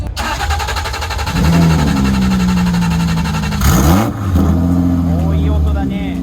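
A green Honda NSX with a carbon intake duct, its engine revving in bursts and settling to a rumbling idle between blips, heard close under people talking at a car show.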